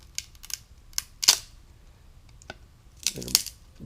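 A chisel breaks out a partly cut section of rotted wooden window frame, giving a few sharp, close cracks and knocks spaced through an otherwise quiet stretch.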